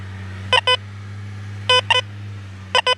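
Three sharp double beeps from an XP Deus 2 metal detector sounding on a buried target, each pair spaced about a second apart over a low steady hum, with no one talking.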